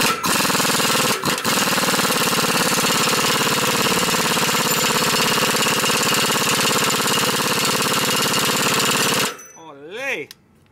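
A Stihl power tool engine, fitted with a large attachment, roars loud and steady for about nine seconds before abruptly cutting off, leaving a brief moment of voice and quieter sounds at the end.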